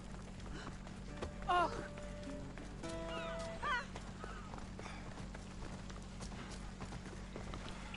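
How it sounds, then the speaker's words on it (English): In Assassin's Creed Odyssey, a horse runs with rapid hoof clatter under a steady game soundtrack, and two short high whinnying calls rise above it, moderately close. "let's try and get the horse here again"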